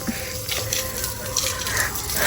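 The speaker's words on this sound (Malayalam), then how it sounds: "ഞാനിതേ ചെടി നനയ്ക്കുന്നു" Water from a garden hose pouring steadily onto potted plants at home, a continuous close splashing gush with no pauses.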